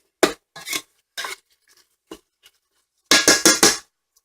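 Spoon scraping and clinking around a slow cooker pot while stirring chili beans, several short close strokes in uneven bursts with a quick flurry of rapid clinks near the end.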